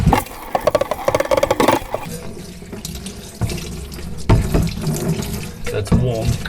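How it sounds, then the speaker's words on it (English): Tap water runs and splashes over a pair of 1985 Paiste Formula 602 Blue Label hi-hat cymbals being rinsed by gloved hands, a steady close gush with uneven spattering bursts and brief shifts as the metal moves under the stream. "Rinse off well. Very, very well, including my gloves."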